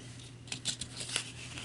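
Scissors snip through cotton craft cord in a few quiet, quick clicks over a steady low room hum, close and faint with no talking.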